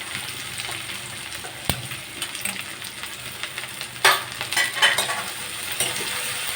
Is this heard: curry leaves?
yes